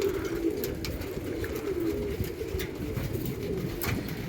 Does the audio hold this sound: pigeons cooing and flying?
yes